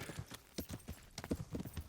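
Horse hooves clip-clop in the medieval role-playing game Kingdom Come: Deliverance, a quick uneven run of close, hollow thuds lasting about two seconds without speech.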